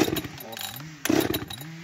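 A chainsaw is pull-started while birch trees are tended outdoors, giving two short rough bursts, one at the start and a louder one about halfway through, close by.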